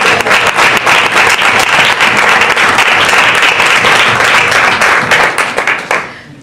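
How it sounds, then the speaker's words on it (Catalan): An audience breaks into loud, sustained applause for Tom at a talk on women and volunteering, with dense clapping close and full that fades out at the end. "Un aplaudiment pel Tom."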